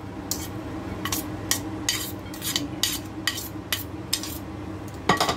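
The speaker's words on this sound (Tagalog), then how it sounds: "Mix natin siya guys." A utensil scrapes and clinks repeatedly against a bowl while stirring a squash and shrimp okoy batter, the strokes steady and close, with no talking.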